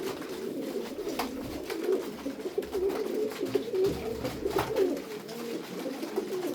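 Tumbler pigeons coo in a loft, soft throaty rolling calls repeating near and fairly quiet, with wing flutters and light shuffling around them.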